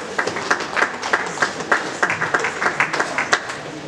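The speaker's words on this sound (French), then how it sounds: "L'évangéliste Jacques, nous acclamons le Seigneur" Congregation applauding during a church service, a steady run of mixed hand claps with rhythmic bursts, moderately close and without clear speech.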